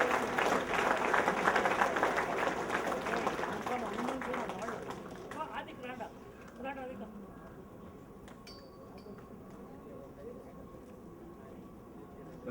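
Audience applause at a welcoming ceremony held by a backward classes federation, a dense burst of clapping for about five seconds that then fades out under talk and crowd murmur.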